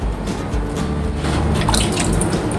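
Orchids are watered first with plain water and then with rice-washing water, a continuous close splashing and dripping of liquid onto plants and potting medium, with brighter droplet patters toward the end.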